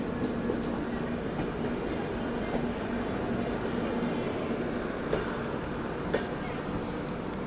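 A Yeshwantpur–Karwar passenger train with Vistadome coaches runs through the Shiradi Ghat section in Karnataka, making a continuous rumbling roll with occasional soft clanks, steady and moderately loud throughout.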